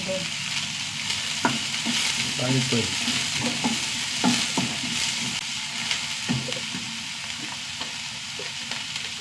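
Onions, green chillies and curry leaves fry over mustard seeds in a pan, a steady close sizzle broken by scraping stirs and occasional crackles, with no talking.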